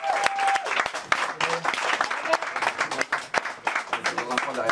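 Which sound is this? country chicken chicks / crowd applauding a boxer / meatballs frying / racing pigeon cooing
crowd applauding a boxer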